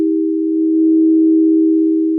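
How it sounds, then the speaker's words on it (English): A steady pure tone, a Solfeggio healing frequency, holds at one pitch, loud and unbroken for the whole stretch with no other sound. "A collection of 6 specific tones, believed by some to have both spiritual and healing properties."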